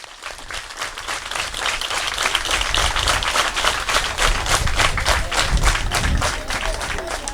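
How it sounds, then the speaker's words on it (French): A crowd of adults and children applauds at a donation day held at an elementary school in Ndiegeune, with loud, sustained clapping that swells and holds steady for several seconds without any speech. "Applaudissez-le."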